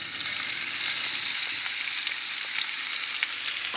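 Onion fries in a little oil in a casserole for a chicken tajine, a steady, close sizzle with faint crackles and no talk over it.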